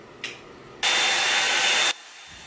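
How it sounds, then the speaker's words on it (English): Revlon One-Step hair dryer brush drying hair, a steady loud blowing whoosh that switches on abruptly, runs for about a second, then cuts off, preceded by a brief click or rustle. "Revlon One Step Hair Dryer"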